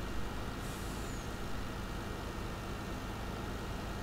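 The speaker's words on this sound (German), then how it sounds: "Da kommt der andere LKW." Second truck pulling in within Farming Simulator 19: a continuous engine rumble with wide noisy hiss and a short high air-brake squeal early on, even in level and unaccompanied by talk.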